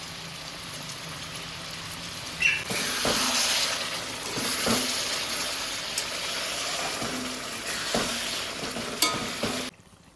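Eggplant curry with ground spice paste sizzling and frying in a pan, a steady hiss with occasional clinks and scrapes of stirring, close and fairly loud throughout before cutting off at the end.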